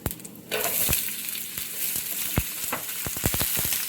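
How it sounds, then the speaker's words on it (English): Onion drops into a hot pan with cumin seeds and starts to saute, giving a steady close sizzle that jumps in loudness at about half a second. Sharp stirring clicks and scrapes punctuate it. "I'm gonna saute it a little bit. Throw some onion here."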